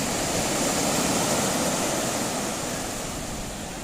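Sea waves washing in at a beach near Mannesmann, heard as a steady, loud broadband roar of surf that eases slightly toward the end, with no voices.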